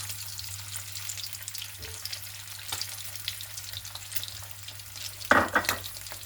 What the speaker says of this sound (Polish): Teraz wrzucamy jajka na patelnię. Boczek już mamy ładnie podsmażony.